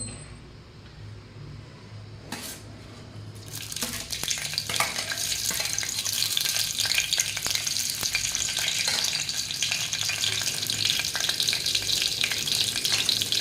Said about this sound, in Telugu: నూనె వేడైన తర్వాత ఇప్పుడు మనం పచ్చిమిర్చి వేసుకుందాం